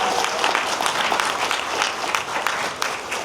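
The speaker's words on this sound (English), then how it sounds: "one more big round of applause for all of us." Brief burst of full, steady applause from an audience at a live event, dense clapping throughout with no pauses.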